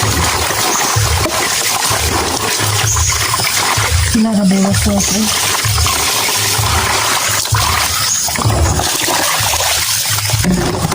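Water poured from a bucket during bathing, a continuous splashing gush that runs throughout with small surges and a brief murmur of voices partway through.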